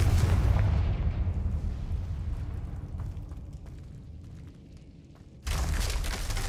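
Confringo blasting spell in the game Hogwarts Legacy: a loud booming explosion that rumbles and fades over several seconds, then a second heavy blast hits abruptly near the end.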